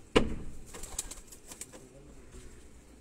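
Pigeons cooing in a loft, soft low coos and a brief flutter of wings close by, faint and intermittent with no talk.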